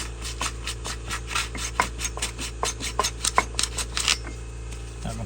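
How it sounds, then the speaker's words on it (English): Sandpaper rasps in short, rhythmic strokes across a golf cart clutch part from a 2012 EZGO gas cart, close and fairly quiet over a steady low hum. "You'll take and sand it down. Just clean her up."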